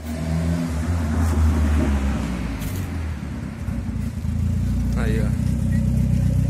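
A turbocharged backyard project car with a recently adjusted carburetor idles roughly and loudly up close, then briefly revs higher before settling back, while people talk over the engine.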